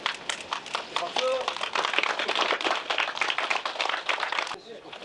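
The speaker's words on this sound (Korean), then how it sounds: "박수." Crowd at an outdoor disaster-safety culture festival in Yeongwol, Korea, applauding on cue: dense, steady clapping from many hands lasting several seconds, fairly loud and near, then cutting off abruptly.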